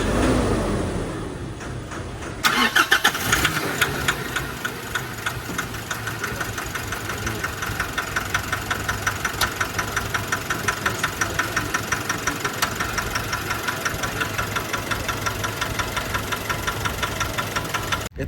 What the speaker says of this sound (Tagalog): Sobrang ingay po ng makina, tapos mausok ng itim yung kanyang likuran